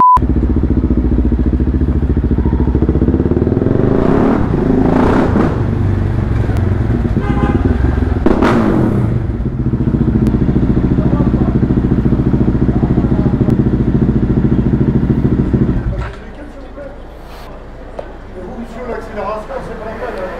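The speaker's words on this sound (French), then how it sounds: "Attention à toi parce qu'il y a le scooter bien sûr." A scooter rides past in a Montpellier street, its engine a steady, loud motor drone close by that holds for about sixteen seconds before cutting away to quieter street background, with a brief horn-like toot mixed in.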